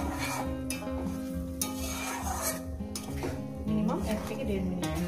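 A spatula works spice paste and tomato around a hot pan for a Bengali fish curry with potato and mustard paste, making a scraping, sizzling fry with metallic knocks over a tonal background hum.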